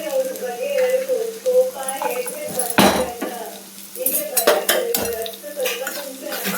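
Onion and garlic going into oil in a pan and stirred for an avarekalu sambar, clattering spoon-on-pan knocks and metallic scrapes over a light sizzle, with a voice talking over it.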